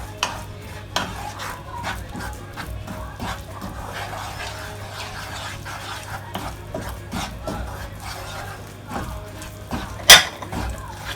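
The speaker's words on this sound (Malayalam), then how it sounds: "കട്ടയൊക്കെ ഉണ്ടെങ്കിൽ നന്നായിട്ട് ഉടച്ചു കൊടുക്കണം." A spoon stirs upma in a pan and breaks up the lumps, making soft repeated scraping and knocking strokes with a faint sizzle. One louder clack comes near the end, and no one speaks.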